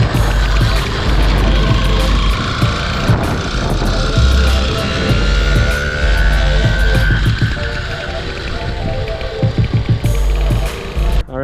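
A smoky 2-stroke engine on a home-built motorized bicycle, doing about 30 to 35, rattles loudly as it passes close by with a buzzing, ratcheting exhaust note that shifts in pitch.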